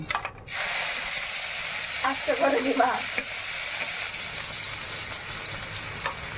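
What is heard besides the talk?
chopped chilies and garlic frying in a pan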